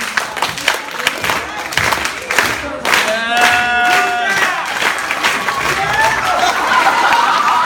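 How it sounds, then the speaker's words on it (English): Audience clapping for a speaker at a spoken-word event, broken claps at first and then steadier applause with some chuckling, a tone and murmured voices over it. "can I have a slow clap for our first speaker"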